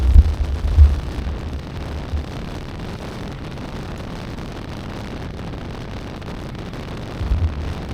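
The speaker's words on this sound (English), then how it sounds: "from your shoulders up you can really feel that wind pushing on you" Wind roars past a rider on a Honda Rebel 1100 motorcycle on a mild day, a steady low buffeting rush with heavier gusts at the start and end, close and fairly loud with no talk.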